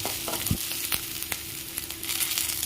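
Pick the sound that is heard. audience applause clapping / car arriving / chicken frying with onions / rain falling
chicken frying with onions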